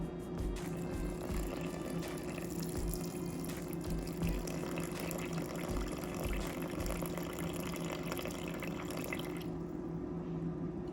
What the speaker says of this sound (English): So I'm gonna pour the 200 grams of water into my bowl.